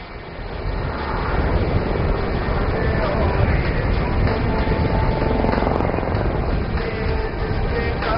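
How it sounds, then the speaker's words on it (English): A helicopter in a steep, rapid zoom climb at an air show roars steadily at close range, rotor and engine with a rhythmic chopping pulse, loud and sustained for several seconds without pause. "The helicopter will execute a steep, rapid ascent to gain altitude"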